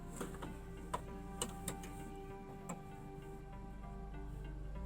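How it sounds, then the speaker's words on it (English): Steady mechanical whirring with a rapid ticking rhythm and a few sharper clicks, a sewing machine stitching fabric continuously at close range. "now I'm gonna sew everything except this part closed with the sewing machine"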